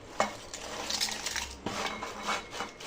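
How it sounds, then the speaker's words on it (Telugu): Crispy deep-fried rice flour chips being handled on a plate, light dry clattering and rustling crunches in irregular bursts, close and fairly faint, with no talking. "చూడండి, సౌండ్ ఎట్లా వస్తుంది, ఎంత క్రిస్పీగా ఉన్నాయో."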